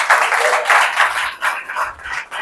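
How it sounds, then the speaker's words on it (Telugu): A church congregation claps in praise of God during a Telugu sermon, several bursts of rhythmic group clapping, fairly loud and close, with a preacher's voice mixed in. "చప్పట్లు కూడా దేవుని స్తుతిద్దాం."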